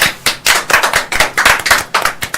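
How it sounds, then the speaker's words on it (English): A studio audience at a talk show applauds, a short burst of loud, close clapping with distinct overlapping hand claps in uneven rhythm and no talking. "I would like y'all to give a round of applause to Mr. Milton Saul."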